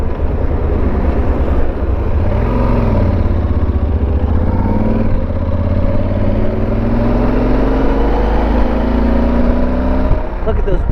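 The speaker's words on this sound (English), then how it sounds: "I don't understand why there's so much traffic all the time." Heavy traffic on a highway beltway: a steady, loud, close roar of engines and tyres with passing vehicles and a low rumble throughout, buffeted by wind noise, with no speech over it.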